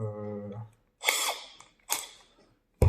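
A 3 mm bit drilling holes in a plastic panel for an aquatic turtle platform: two short, whining bursts of the drill, close up, after a brief voice at the start.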